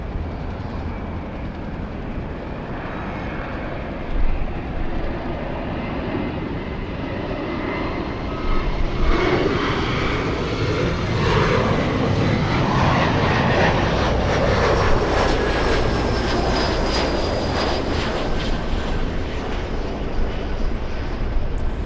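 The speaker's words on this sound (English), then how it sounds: "Emirates 215, landing a little late today" An Emirates airliner landing at LAX gives a continuous broad jet roar that builds slowly and stays loud and steady, with a faint whine rising above it.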